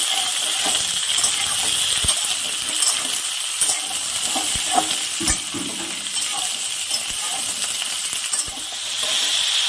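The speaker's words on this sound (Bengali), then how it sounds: "ঝিঙাটাকেও হালকা আলুর সাথে একটু ভেজে নেব।" Sliced ridge gourd and potato fry in oil in a pan, giving a constant loud sizzle broken by sharp clinks and scrapes of a spoon stirring against the metal.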